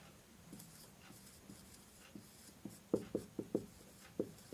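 Pen scratching on paper during a biology lesson, a run of short strokes that quickens into several sharp, close taps and scrapes toward the end, heard alone without talk.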